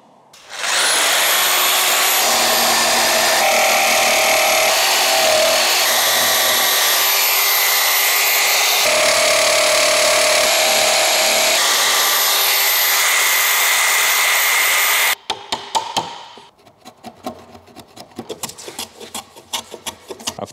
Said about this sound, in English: To remember to always plane plywood from outside to inside.